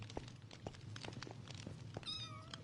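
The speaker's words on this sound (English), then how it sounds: "This is the cat." A cat in the video game Minecraft meows several times in short, separate calls over a low hum, with a higher, drawn-out cry near the end.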